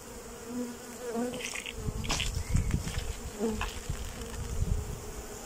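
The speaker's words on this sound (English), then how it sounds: "Can you see the bees?" Dense, steady buzzing of many honeybees up close in a hive box, a continuous droning hum with individual wingbeats rising and falling.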